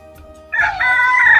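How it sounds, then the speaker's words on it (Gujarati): A rooster crows loudly and close by in the grounds of a Meldi Mataji temple at Oad Kamod, where roosters roam freely; one sustained crow starts about halfway in, after quieter background sound. "અહીંયા બધા રમતા મરઘા મૂકવામાં આવે છે"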